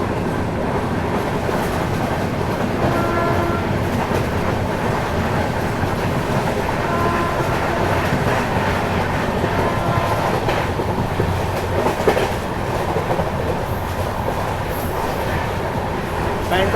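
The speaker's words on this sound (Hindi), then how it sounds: "जबरदस्त रफ्तार में अपनी ट्रेन फिलहाल भाग रही है, लगभग 100-105 के आसपास।" An Indian electric train runs at around 100–105 km/h between stations near Kannauj, giving a loud, steady roar with rhythmic rail clatter that continues without a break.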